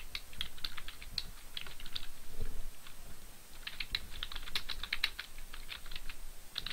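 Steady typing on a computer keyboard while editing text in a graphic design template, with rapid clicky keystrokes in uneven bursts and short pauses, close and fairly quiet, with no talking.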